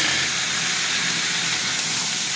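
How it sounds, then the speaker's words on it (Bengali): Tomatoes fry in a hot pan with a loud, steady sizzling hiss that stays even throughout, close up and with no voices. "এবার আমি টমেটোগুলো দিয়ে দিচ্ছি। টমেটোটা দিয়ে আবারও ভাজবো।"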